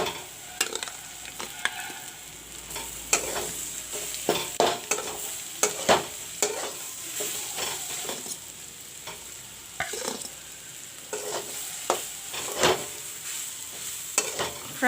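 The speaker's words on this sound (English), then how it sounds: "fry the mashed peas with the onions" Mashed peas with onions and chili powder fry in a pan, a steady soft sizzle broken by repeated scraping stirs of a spatula at an irregular rhythm, close and fairly quiet.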